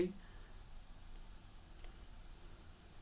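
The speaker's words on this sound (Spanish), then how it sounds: "Doy clic en OK." Computer mouse clicking on an OK button in energy analysis software, two faint, sharp, separate clicks in a quiet room.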